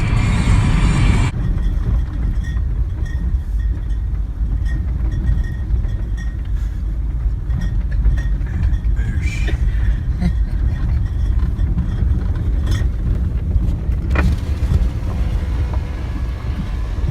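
A funky camper van drives along with a steady low rumble of engine and road noise, heard from inside with constant wind buffeting and occasional faint rattles.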